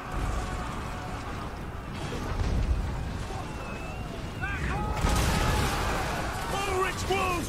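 Dense battlefield gunfire and crackling bursts roll on continuously in Total War: Warhammer 2, loud and layered, with someone talking over the din.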